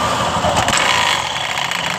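Honda Beat Pop scooter engine revved with the throttle, its roller housing noisy and rough. Close, loud and continuous, a coarse rattly drone with a slight swell early on, with no talk.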